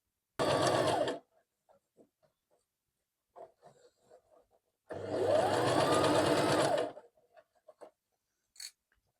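Sewing machine stitching tutu fabric, running in two loud bursts of steady motor whir, the first about a second long and the second nearly two seconds, with quiet handling noises in between.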